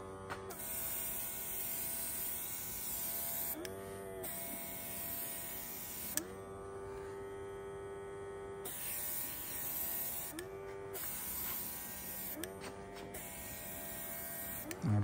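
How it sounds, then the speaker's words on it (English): Portable airbrush pump spraying ceramic coating, a steady electric buzz with a harmonic hum, running continuously throughout and interrupted by several brief pitch sweeps as the pump pressurizes and cycles. "And you just hit this button, and it pressurizes the pump, and then you can just start spraying."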